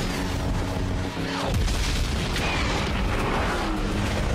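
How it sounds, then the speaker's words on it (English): A loud explosion booms as a bridge is blown apart in Saints Row: The Third, a deep burst followed by rumbling debris and continuing game noise. "Oh, they are destroying the bridge."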